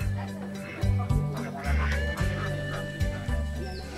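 Laying ducks on an egg-producing duck farm, a loud flock honking and quacking in repeated overlapping calls, close and busy, with some faint background noise.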